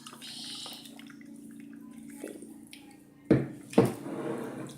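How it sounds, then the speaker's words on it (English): Water, one cup measured out, is poured into a bowl for homemade goo, a soft trickle followed by two louder splashy pours near the end, fairly quiet and close. "now we have 1 cup of water and we are pouring it into the bowl"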